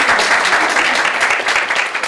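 An audience applauding at a sold-out property investing Q&A event in Brisbane, a dense, steady wash of many hands clapping at once, loud and close, continuing without pause.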